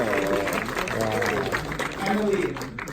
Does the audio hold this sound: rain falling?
no